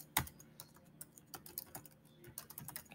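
Light, irregular keystrokes on a computer keyboard while entering a sticky note, close and fairly quiet, with short gaps between bursts of clicks.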